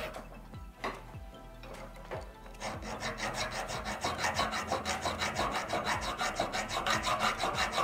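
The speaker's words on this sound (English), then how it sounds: "now we grind out the burrs and also sharpen the front" Ice climbing tool teeth being ground to remove burrs and sharpen the front tip, a steady rhythmic rasping that starts with a few separate strokes, then settles into fast, even, close-up passes that grow louder, with no talking.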